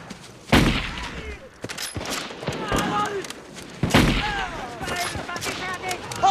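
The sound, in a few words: gunfire in a war movie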